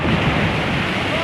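Ocean waves and surf wash steadily around a fishing spot, a continuous broadband roar mixed with wind buffeting the microphone, loud and close throughout.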